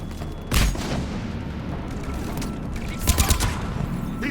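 Bursts of gunfire in the Mass Effect 3 video game during a firefight against Cerberus troops, with a sharp volley near the start and a rapid cluster of shots later over a steady noisy battle background.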